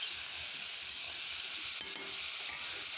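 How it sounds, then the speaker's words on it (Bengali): Pieces of fish fry in hot oil in a pan, producing a steady, dense, close sizzle that holds evenly throughout with no voices. "একটু তেলের মধ্যে ভাজা করলাম।"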